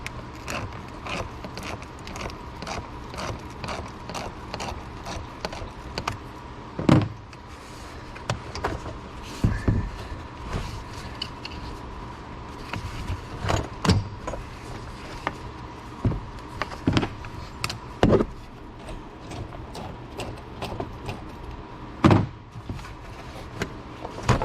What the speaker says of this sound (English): Just take this clamp loose.